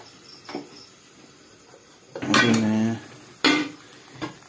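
Dishes and utensils are washed after cooking in a home kitchen, with metal clatters and scrapes and a longer rinsing or scrubbing burst in the middle, set against faint background noise.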